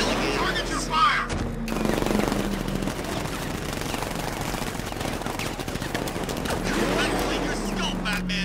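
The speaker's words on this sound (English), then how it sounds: "Open fire!" Rapid automatic gunfire rattles in Batman: Arkham Knight, with dense overlapping bursts continuing throughout and voices shouting over the shooting.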